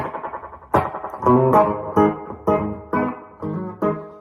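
An electric guitar plays rhythmic strummed chords through a Nobels mini delay pedal set to mimic spring reverb, with no other effects, each attack trailing off in a springy, reverberant echo.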